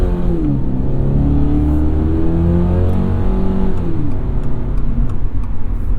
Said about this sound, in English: Not the biggest fan of the engine note.